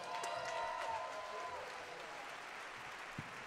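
Concert audience applause greeting the host, a broad crowd roar with a few shouted voices and a whistle near the start that gradually thins and fades to a quiet murmur.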